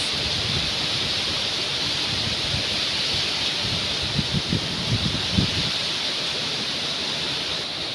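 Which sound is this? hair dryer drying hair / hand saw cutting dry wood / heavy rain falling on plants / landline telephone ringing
heavy rain falling on plants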